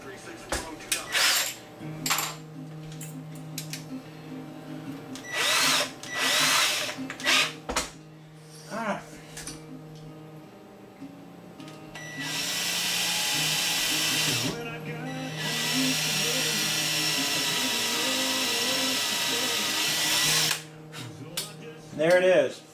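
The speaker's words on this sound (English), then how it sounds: "Find my other drill." A power drill with a 3/32 bit whirs in short bursts and then in two long sustained runs, near and loud, with clinks of tools between them.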